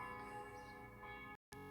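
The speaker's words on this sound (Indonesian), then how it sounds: "ini suara lonceng di gereja gitu ya" Church bells ringing in Switzerland, heard outdoors at a plant shop, with rich sustained metallic tones layered and resonating, cut by a brief silent gap before the ringing resumes.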